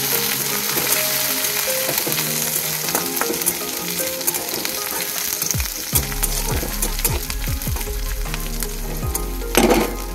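Garlic, green chili and curry leaves, with cumin and mustard seeds, sizzle loudly and steadily in hot oil for Maharashtrian besan vadi, with occasional clinks of stirring.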